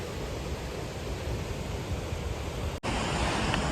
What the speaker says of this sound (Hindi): कितनी स्पीड होगी और कितनी क्वांटिटी होगी इस पानी की।